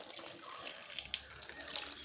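Water runs steadily from a tap while a baby is bathed, a soft continuous splashing stream with a few brief brighter drips and splashes, fairly close and at low level with no talk.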